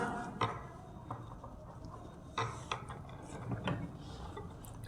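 A sewing machine stitches a fabric puff sleeve, giving quiet, irregular mechanical clicks and ratcheting whirs in short runs with pauses between them.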